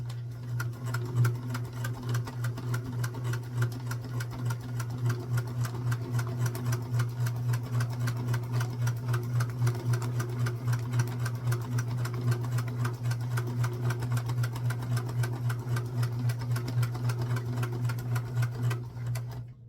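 A sewing machine stitches through a paper-pieced quilt block in a steady rapid chatter of needle strokes, close and continuous for about twenty seconds, with a low motor hum underneath.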